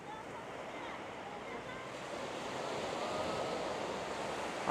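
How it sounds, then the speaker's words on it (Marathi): Strong wind roars steadily with crashing surf underneath at Clear Water Bay Beach, a loud, continuous rushing that slowly builds toward the end. "आज सध्या ॲक्च्युली वारा खूप जोरात चालू आहे"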